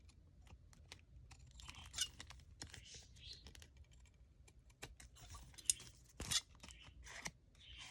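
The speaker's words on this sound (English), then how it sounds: "we can take the scissors and we can just trim these back." Scissors snip and trim paper embellishments on an envelope at close range, a quiet run of irregular crisp cuts with occasional louder snips, and soft whispery talk underneath.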